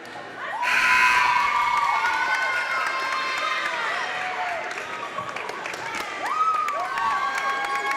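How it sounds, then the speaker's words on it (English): A student section cheers, shouts and claps loudly throughout a high school basketball game, a dense continuous roar with sneaker squeaks cutting through. "Take a look at the crowd on hand here for the Sterling Superfans. They're showing out today."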